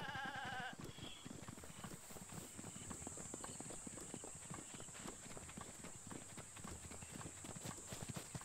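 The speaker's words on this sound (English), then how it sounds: "Goats run out." Goats in Zelda Breath of the Wild scatter with a rapid patter of many hoofbeats and a few short bleats near the start, a fairly faint, busy game soundscape without talk.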